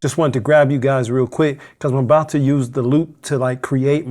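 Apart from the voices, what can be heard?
No everyday noise stands out behind the speech.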